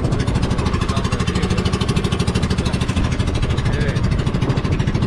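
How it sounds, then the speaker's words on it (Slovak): A boat motor on a trip around Coron, Palawan, in the Philippines runs loud and steady with a fast, even chugging throughout, dominating the scene. "Tu je motor."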